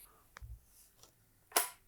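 A shutter cover on a new Sony HXR-NX800 / PXW-Z200 camcorder is clicked open during unboxing. A couple of faint small clicks come first, then one sharp, loud snap near the end, close by, with no talking.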